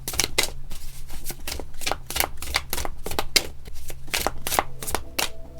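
Botticelli tarot cards shuffled by hand, a rapid run of crisp riffling bursts repeating in quick rhythm, close up, with a faint low hum beneath and no talking.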